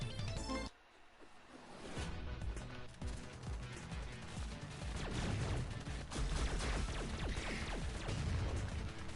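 Rapid bursts of arcade-style gunfire from floating assist robots flanking the player in the twin-stick shooter Assault Android Cactus, dense and continuous over busy game music and effects after a brief quiet moment at the start.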